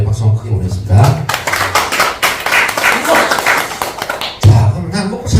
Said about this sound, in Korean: 다시 한번 자신의 박수 한번 크게 보냈습니다